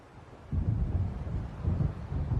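Deep rolling thunder from an approaching storm in the video game Alan Wake rumbles in two low swells over a quiet windy backdrop, with no speech.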